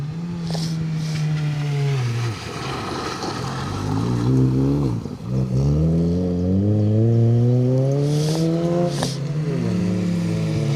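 A rally car engine revs hard and climbs through gear changes as it approaches and roars past on a gravel stage at Greystoke Stages 2025, loud and close, with rising and falling pitch.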